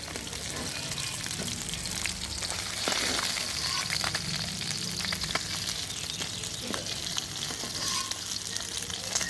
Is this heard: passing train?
no